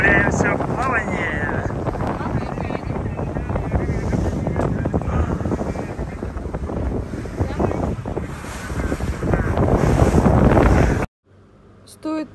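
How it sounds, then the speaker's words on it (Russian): A GTS speedboat races across open sea to Koh Larn, Thailand, with a steady roar of engine, rushing water and heavy wind buffeting the microphone, a voice talking over it before the noise cuts out abruptly. "мы едем на катере GTS, кстати, самый лучший катер"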